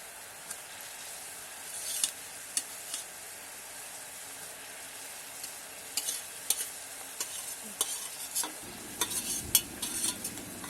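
Sugar and batasha syrup bubbling in a wok as it is stirred, giving a steady soft sizzle with intermittent scraping clinks of the spoon, close and moderately quiet.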